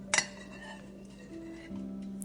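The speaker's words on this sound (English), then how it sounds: "You hear the clinking of dishes and the distant murmur of voices in a home once filled with warmth" Dishes clink in a bustling kitchen, with one sharp glassy ring at the start followed by quieter soft clatter and faint tones, no talking.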